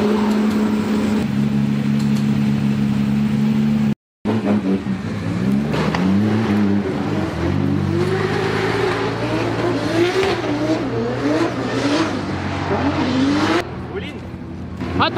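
A drift car makes a run at the Ferropolis Drift Masters event, its engine revving and rising in pitch repeatedly at a distance, with possible tire squeal and a brief cut in the sound, while people talk over it.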